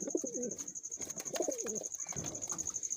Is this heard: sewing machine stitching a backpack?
no